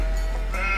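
A short, close sheep bleat from Age of Empires II plays over a steady low game hum.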